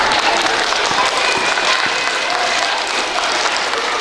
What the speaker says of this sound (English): You can clap for them real quick if you like.